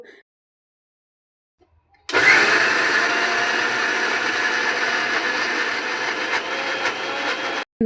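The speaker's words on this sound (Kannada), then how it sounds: "ಉದ್ದಿನ ಬೇಳೆ ಚೆಂದ ಮಿಕ್ಸಿಗೆ ಹಾಕ್ಕೋಬೇಕು" A mixer grinder grinding soaked urad dal for idli batter starts abruptly after two seconds of silence, then runs as a loud, steady, close motor whir until it cuts off at the end.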